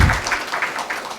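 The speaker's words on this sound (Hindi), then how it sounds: "जोरदार तालियों से एक बार उनका स्वागत करें" Applause welcomes state governor Thawarchand Gehlot at a Shramik Diwas social evening and dinner, a brief burst of steady crowd clapping filling the moment.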